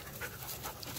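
A playful pet dog panting rapidly and steadily up close, a continuous breathy huffing rhythm with no voices over it.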